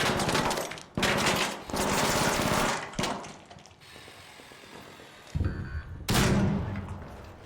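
Automatic turret in the video game ARC Raiders firing loud, dense bursts of gunfire, several long volleys with brief pauses, then a final burst after a short lull.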